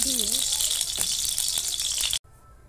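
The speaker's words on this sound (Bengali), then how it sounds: "দিয়ে দিচ্ছি বিনস কুচি। এটা একটু 2 মিনিট আমি ভেজে নেব।" Chopped green beans fry in hot oil in a kadai, a steady bright sizzle that runs loud and close for about two seconds before cutting off abruptly, with a brief voice near the start.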